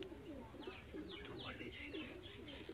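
Pigeons coo softly in repeated throaty phrases, with faint chirps from other birds mixed in against a quiet background.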